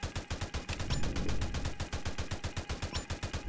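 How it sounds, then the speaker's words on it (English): Minigun tower firing in the Roblox game Tower Defense Simulator, a rapid, even stream of quiet gunshots repeating about eight times per second, continuous and rather faint, with nobody talking. "right now my mini gunner is doing all the work"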